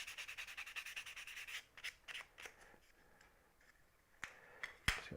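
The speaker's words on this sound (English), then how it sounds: "A piece of sandpaper." Sandpaper rubbed on a wooden dovetail box, close and faint: a quick run of rhythmic back-and-forth scratching strokes, then scattered lighter rubs and a couple of sharp taps.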